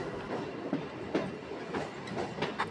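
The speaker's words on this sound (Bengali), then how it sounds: "আমাদের ট্রেন প্রবেশ করতে চলেছে বাহিরখণ্ড স্টেশনে।" Local train on the Tarakeswar line pulling into Bahirkhanda station, steady rolling rumble with rhythmic clickety-clack wheel beats over rail joints, heard from inside the carriage.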